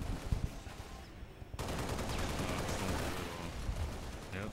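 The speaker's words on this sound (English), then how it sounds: "There I go, shooting my clone." Gunfire in the video game Halo Reach: scattered sharp shots at first, then a dense continuous burst of rapid automatic fire, loud and close, with no talk.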